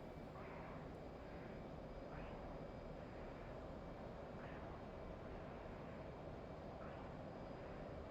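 Steady, low, continuous jet engine roar from an F/A-18C flying in the DCS flight simulator, a flat broad rumble with faint periodic chirps above it, moderately quiet throughout.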